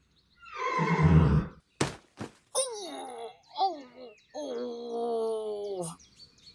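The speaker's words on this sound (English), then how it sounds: "Away went the horse at full gallop" A horse whinnies loudly up close, followed by a few sharp thumps and then more drawn-out neighing calls; no hoofbeat rhythm of galloping comes through.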